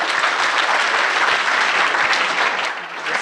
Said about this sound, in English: Another big round of applause for EV Match.